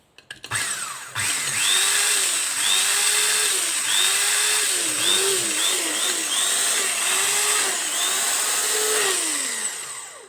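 An electric food grinder and blender runs after its faulty arcing switch was repaired, giving a loud continuous high whine that rises and dips in repeated pulses after a few start-up clicks before winding down.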